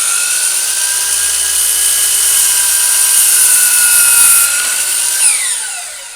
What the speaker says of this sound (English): when I do the miter, I'm just going to lift the saw up like this